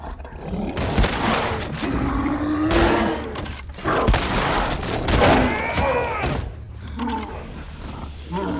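A huge infected monster in The Last of Us Part II roars loudly and close, over layered game noise and bursts that resemble gunfire, with no talk over it.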